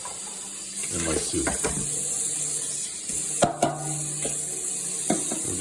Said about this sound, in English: I'm just going to rinse them out